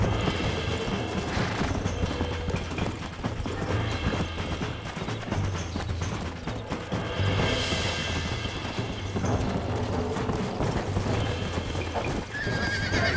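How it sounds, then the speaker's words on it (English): Horses whinny and snort over busy clip-clopping hooves and clattering in Red Dead Redemption, loud and close throughout with no voices. "Where you going with that horse?"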